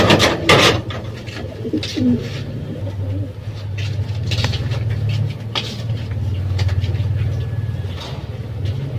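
Pigeons kept in a loft coo and call softly over steady low ambient rumble, with a few sharper bird sounds early on and a constant background hum throughout.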